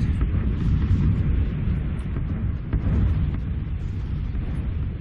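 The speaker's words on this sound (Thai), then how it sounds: "ระเบิด" An explosion in the game PUBG comes as a dense, rumbling boom that rolls on for several seconds at a fairly loud level, with no talk over it.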